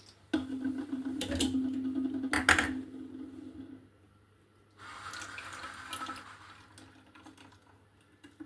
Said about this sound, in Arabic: معانا بقى هنا عصير مانجا هنصبه لهم هنا